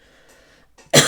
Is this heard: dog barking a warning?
no